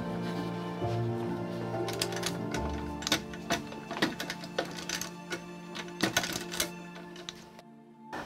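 An old leatherworker's sewing machine stitching in a Kraków workshop, giving a steady mechanical whir that breaks into a run of rapid, irregular clacking clicks before cutting off abruptly near the end.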